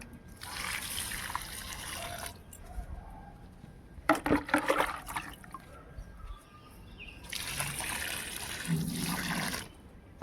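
Water poured onto potted plants under strong sun, trickling and splashing in bursts with pauses between, fairly quiet, with a brief louder splash midway and faint birds in the background.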